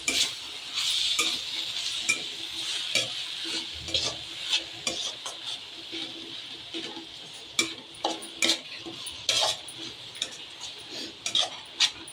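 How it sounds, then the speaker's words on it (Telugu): Chopped spinach stirred in a pan for palak dal, a faint sizzle under repeated close scraping and clinking of a spoon against the pan in irregular bursts. "ఇప్పుడు మనము కట్ చేసి పెట్టుకున్న పాలకూర వేయాలి"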